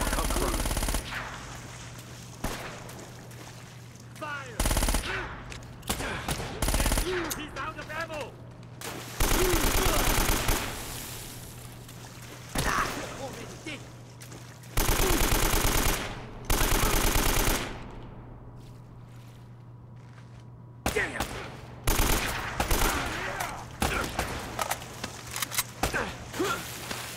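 Bursts of automatic and single gunfire in the video game Uncharted 1 come in repeated loud volleys separated by quieter gaps, with some voices talking in between.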